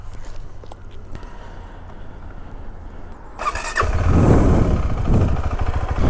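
A KTM 390 Adventure motorcycle ridden through Istanbul streets: a low engine drone with wind noise that swells into a louder, rougher roar partway through as the bike accelerates, with no talking.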